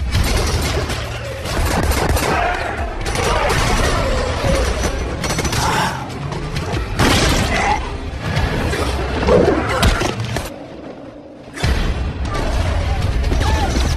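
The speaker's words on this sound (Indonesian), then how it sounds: "Alice dan yang lain pun menyiapkan senjata mereka masing-masing dan aksi tembak-tembakan di antara mereka pun terjadi." Rapid gunfire and clattering weapon mechanisms fill a Resident Evil: Extinction zombie shootout, dense bursts of shots running almost continuously under loud action-film sound with a brief drop near the end.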